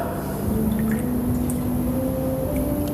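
Water pours and trickles into a basin for hand washing during a Passion Sunday reading in a church in Victoria, Texas, a close continuous fill with rising pitch and a few drips, heard alone.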